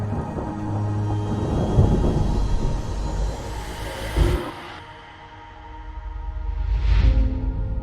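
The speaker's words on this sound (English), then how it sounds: "The storm is coming." Thunder rumbles low and long through a storm, with a loud swell midway and another rolling surge near the end between quieter stretches, heard alone without speech.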